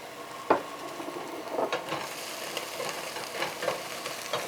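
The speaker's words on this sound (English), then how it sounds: "The veggies are doing good. It's starting to cook." Vegetables fry in oil in a pan for a chicken Alfredo fettuccine, giving a steady close sizzle broken by the scrape and clatter of stirring.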